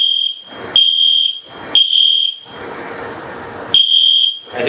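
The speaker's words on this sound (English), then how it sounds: "I think there's a fire alarm." A building fire alarm blares in loud, steady high-pitched tones that repeatedly cut out and resume, with voices and room noise filling the brief gaps between the blasts.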